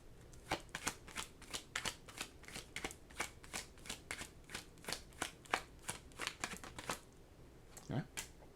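A deck of oracle cards being shuffled by hand, a quick run of crisp riffling flutters and taps repeating steadily and close, ending with a soft thump and a final flick.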